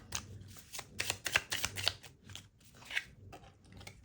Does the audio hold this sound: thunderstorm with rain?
no